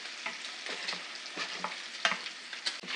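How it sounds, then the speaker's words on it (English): Small diced potatoes frying in extra oil like hash browns, a continuous crackling sizzle punctuated by rhythmic stirring scrapes every half second or so, close and fairly quiet. "I'm gonna actually add a little bit more oil to that so they can fry like a hash brown and not saute or steam"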